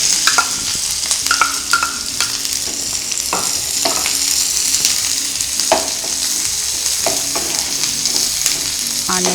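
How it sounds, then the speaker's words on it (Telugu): Garlic cloves and onions fry in hot oil in a pan, a steady loud sizzle with scattered clicks and scrapes of stirring throughout, close up and uninterrupted. "ఆయిల్ హీట్ అయ్యాక 3 వెల్లుల్లి రెమ్మలను వేసి కొంచెం ఫ్రై చేద్దాం"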